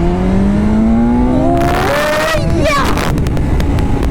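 A BMW S 1000 XR motorcycle engine revs hard through a wheelie, its rising whine climbing loud and close before wind buffeting and roar take over.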